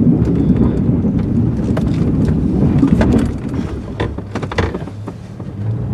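Wind gusting through an outdoor winter scene while snow is plowed, a steady loud rushing roar with scattered knocks and thuds, easing slightly after the first few seconds.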